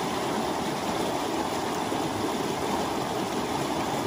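A stream at Clifty Falls rushes over rocks, a constant broadband wash of flowing water, steady and fairly close with no break.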